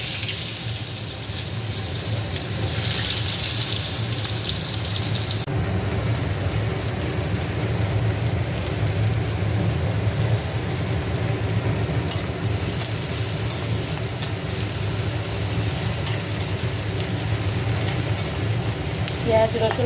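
Fish sizzling steadily in hot oil in a pan while kakrul is cooked, a continuous bright crackle lasting throughout, with a voice speaking over it.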